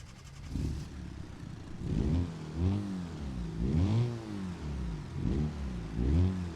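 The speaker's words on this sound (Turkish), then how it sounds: "Ama zırıltılı bir motor sesi var." A Lada 2102 engine in the game BeamNG Drive idles and revs in repeated surges, a buzzy, rattling motor rising and falling in pitch several times, close and loud.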